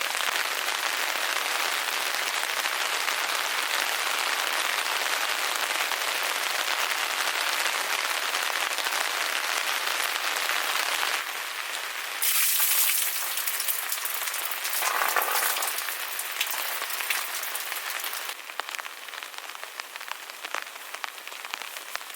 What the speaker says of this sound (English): There's an awful lot of rain.